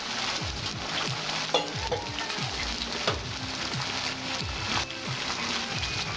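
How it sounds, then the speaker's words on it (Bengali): Ground cumin, coriander and dried chili paste with salt sautéing in a pan, a steady dense sizzle with intermittent scraping stirs throughout, fairly close and continuous, no voices. "আমি মশলাটা কষাবো 2 মিনিট।"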